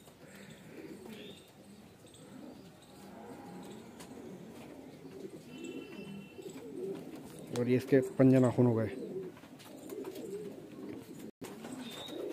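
Fancy male pigeons coo softly in the background while someone talks over them, with one louder, closer burst of cooing partway through.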